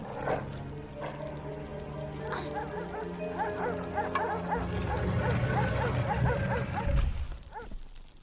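A jackal barks and yips repeatedly in quick bursts over a steady droning background in the PS1 game Tomb Raider: The Last Revelation, loud and close, with whimpering cries mixed in.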